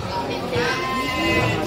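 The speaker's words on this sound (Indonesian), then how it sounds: "Ada hadiah kambing." A goat bleats with a wavering, drawn-out cry at a prize draw event in Kraksaan, Probolinggo, heard under loud talking from the crowd and announcer.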